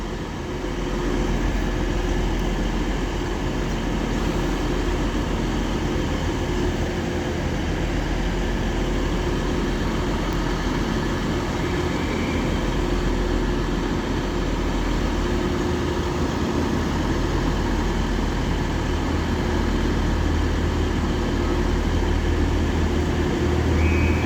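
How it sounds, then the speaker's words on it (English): A TransPennine Express Class 185 diesel unit at Doncaster on the East Coast Main Line, running from Liverpool Lime Street to Cleethorpes: a steady, continuous low rumble of engine and wheels, loud and unbroken throughout with no talk. "The first train of our second part will be a Transpennine Express Class 185 running from Liverpool Lime Street to Cleethorpes."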